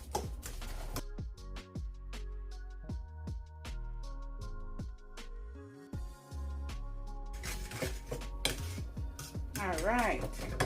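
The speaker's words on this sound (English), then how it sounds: "I'm just gonna mix this together." A utensil mixes brown sugar into banana bread batter in a bowl, producing a quick run of bright clinks and taps against the bowl followed by busier scraping and rattling, close and fairly quiet.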